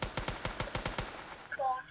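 A gun fires in Roblox, about nine rapid sharp shots in an even automatic burst, followed by a brief quieter mechanical clack near the end.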